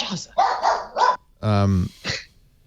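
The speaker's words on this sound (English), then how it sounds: "It's your dog who scared you." A dog barks in several sharp bursts followed by a longer growl-like bark, loud and close, all within a few seconds.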